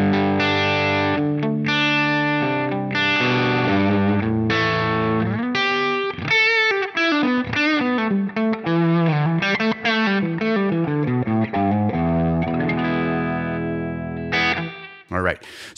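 Electric guitar played through a Line 6 Helix modeling a 212 Interstate cabinet with a 121 ribbon mic about three inches back, ringing out sustained chords and then a fast melodic run, loud and continuous with a distorted, effected tone.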